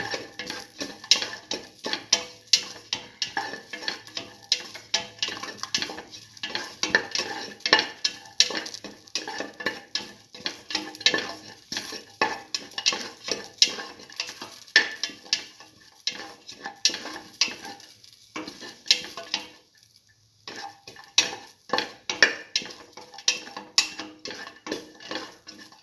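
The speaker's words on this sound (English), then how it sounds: "keep on sauteing." Black lentil and ash gourd stew with green chili being sautéed and stirred in a pan, a steady run of spoon scrapes and clinks over a soft continuous sizzle, close and moderately loud with no talking.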